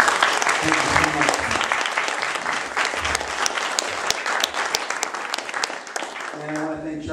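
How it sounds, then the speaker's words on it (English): Audience applause breaks out after a talk about a trip to Burundi, a dense, steady wash of clapping from a large crowd that carries on loudly throughout, easing slightly near the end. "Let's give him a round of applause."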